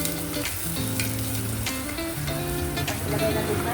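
Chopped onion fries in hot oil for an Arab okra stew, a steady loud sizzle with occasional stirring scrapes close by, while faint music or tones run underneath.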